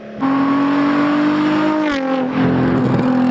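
A VQ V6 car engine revs hard through a throaty exhaust, a sustained loud drone that dips briefly and then climbs again.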